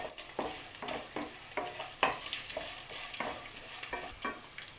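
Mustard seeds, cumin, chana dal and garlic fry in a little oil, with a light sizzle broken by regular scraping strokes of a spoon against the pan, close and fairly quiet.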